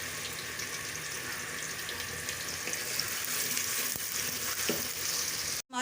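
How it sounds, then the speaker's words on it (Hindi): Onions frying in three spoonfuls of hot oil in a pan for a chicken moli ki bhujiya, a dense, steady crackling sizzle close up, with a short clatter at the very end and no talking. "अब हम इसमें"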